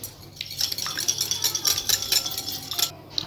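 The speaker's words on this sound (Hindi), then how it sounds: "यहाँ पे लिया है मैंने एक खाली बॉल, इसमें हम ऐड करेंगे अंडा। इसे अच्छे से हम फेंट लेंगे।" An egg is beaten briskly in a bowl, with rapid clinking strokes of utensil against the bowl repeating for several seconds at close range with no voices.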